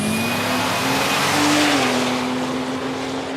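A turbocharged BA Falcon wagon drag race car roars past at a raceway, a loud, steady engine note holding high with a brief pitch shift mid-pass, then fading slightly as it moves away.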